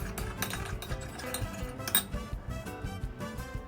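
Light clinks and scraping of a spoon stirring potato starch and water in a small bowl, a quick irregular patter of taps close by over faint background music.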